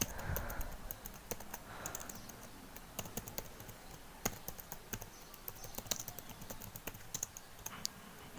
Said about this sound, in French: pour démarrer notre serveur, il suffit de taper cette commande